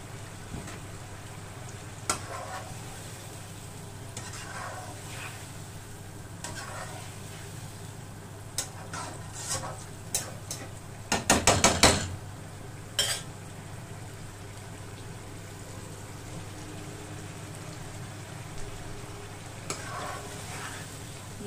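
Masala for mutton yakhni pulao frying and being stirred in a pot, a low steady sizzle with scattered spoon scrapes and a brief louder clatter of stirring midway.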